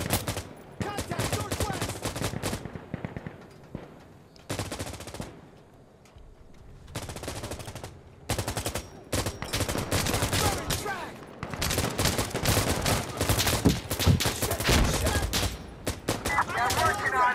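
Sustained automatic gunfire in a night Checkpoint match of Insurgency: Sandstorm, loud close bursts and sprays separated by brief lulls, with speech tagged in the clip.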